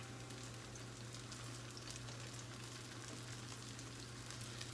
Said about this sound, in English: we're just gonna fry these up like hamburgers